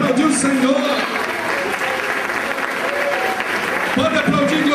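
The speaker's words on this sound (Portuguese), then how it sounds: "Pode aplaudir o Senhor." A church congregation applauds the Lord, a dense wash of many people clapping together, with voices calling out over it and a spoken voice rising near the end.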